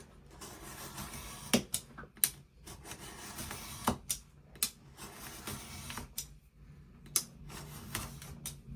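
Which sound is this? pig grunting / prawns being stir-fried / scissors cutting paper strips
scissors cutting paper strips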